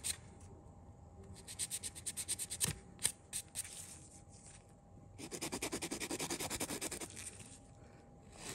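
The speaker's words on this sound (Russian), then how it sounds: "сейчас я возьму пилку и немного прорабатываем бока. Вот таким образом ставим пилку и убираем лишнюю толщину." Quick rhythmic rasping of a nail file shaping the sides of acrylic gel nails, close and quiet, in short bursts of back-and-forth strokes with brief pauses between.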